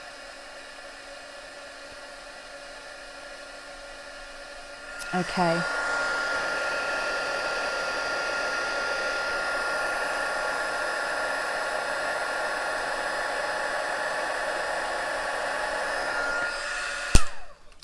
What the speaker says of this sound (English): I'm just going to turn the heat tool on.